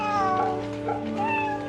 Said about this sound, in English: we always pet the kitty